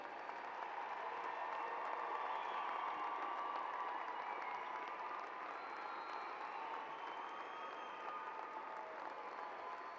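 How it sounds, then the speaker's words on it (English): A high school commencement crowd applauds graduating students, a steady, dense wash of clapping with some cheering that holds for the whole stretch, heard from a distance in a large space. "Please give these students another round of applause."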